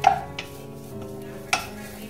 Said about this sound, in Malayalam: ഇത് നന്നായിട്ട് ബട്ടറിനകത്ത് ഒന്ന് വഴറ്റിയെടുക്കണം